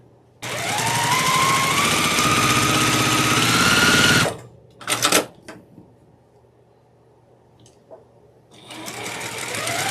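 A sewing machine stitches a quilt block, running in a fast continuous whir for several seconds, stopping, giving a few short bursts, then starting up again.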